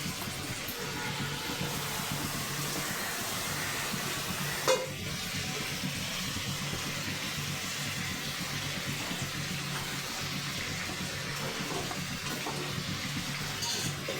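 Taro stolons (kochu loti) drop into a hot pan with curry and fry, a steady close sizzle that continues evenly with a faint clink of utensils.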